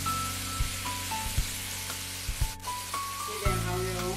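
Chinese yam and wood ear mushroom stir-fry in a wok, giving a steady sizzle broken by a few clanks and scrapes of the spatula, close and moderately loud, with no talking.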